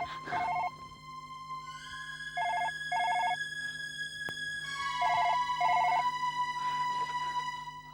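A telephone rings in repeated electronic bursts in a horror TV show scene, clear and fairly loud over a steady background tone with no speech.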